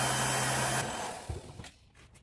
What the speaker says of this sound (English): That heat gun is drawing 12 amps.